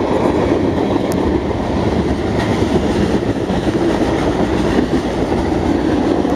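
A freight train of loaded covered potash hoppers rolls past close by, a loud, continuous rumble and rattle of cars with faint wheel clatter and no talk.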